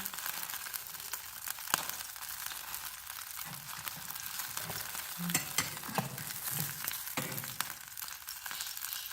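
Food pressed into a ring sizzles steadily in a hot pan, a close, even crackling hiss with small pops and occasional stirring scrapes and no talking.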